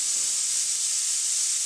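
A pressure cooker holding pork and taro curry lets off steam, a steady, even, high hiss that continues without a break.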